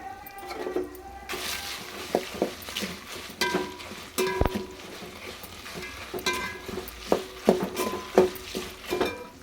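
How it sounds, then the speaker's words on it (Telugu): Dried red chillies fry in oil in a pan, a soft crackle under repeated scraping and clinking strokes of a spoon against the pan, close and uneven, with no one talking. "ఇప్పుడు ఎండుమిర్చి అది నూనెలో వేయించాలి"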